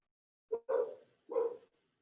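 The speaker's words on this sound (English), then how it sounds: "every time we hear her bark" A dog barks indoors during a quiet meditation session: a short yip followed by two fuller barks, close and clear against near silence.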